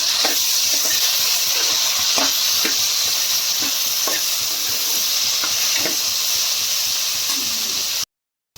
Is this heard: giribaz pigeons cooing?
no